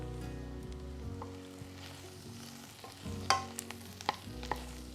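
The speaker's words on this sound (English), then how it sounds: "You want to stir them a little bit so they're all coated with the butter." Mushrooms sizzle in butter in a pan while being stirred, a continuous soft frying crackle under low kitchen hum, with several sharp spoon or spatula scrapes and taps toward the end.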